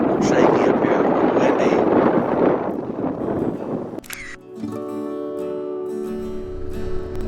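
Loud, rumbling desert wind buffeting a phone microphone for several seconds near the Salton Sea, then abruptly cutting to quieter background hum with faint sounds.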